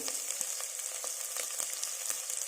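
Green chillies and bay leaves frying in oil in a pan, a steady close hiss of sizzling with small crackles and pops throughout, no voices.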